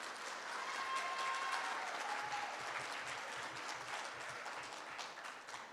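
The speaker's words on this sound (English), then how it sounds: "let's go ahead and give them a round of applause at the beginning" Audience at a band and choir banquet applauding the four-year band members: a soft, steady round of clapping heard from a distance, with a faint murmur of voices underneath.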